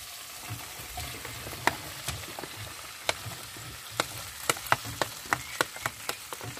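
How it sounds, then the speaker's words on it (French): Onions frying for a Moroccan chicken tagine with lemon and olives, a soft steady sizzle broken by scattered sharp clicks and scrapes of stirring in the pot, close and moderately quiet with no talk. "Ben là, je remue. On va mélanger un peu tout ça."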